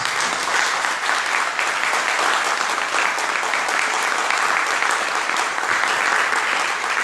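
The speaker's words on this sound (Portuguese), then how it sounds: "aplauda Jesus" A church congregation applauds during a service, dense sustained clapping from many hands filling the room at an even, loud level throughout with no talking over it.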